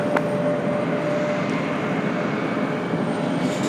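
An airliner at Raleigh Durham International Airport runs on the runway with a steady, loud engine roar that holds evenly throughout, with a faint thin whine above it and no voices.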